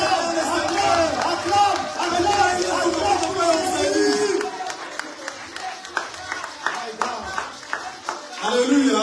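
A church congregation cheers and claps for Jesus, loud crowd acclaim with scattered applause filling the first half, then sharper individual claps and shouts as the cheering thins, swelling again at the end.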